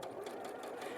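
A sewing machine stitches Liberty fabric close to the edge, a steady rapid mechanical whir and patter, near and continuous for the whole moment.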